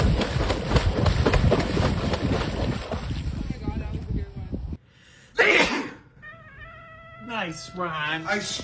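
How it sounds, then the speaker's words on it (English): One sharp, sudden sneeze bursts out in a quieter moment after a stretch of noisy, cluttered sound. People talk before and after it, and cat-like vocal sounds can be heard nearby. "I sneezed."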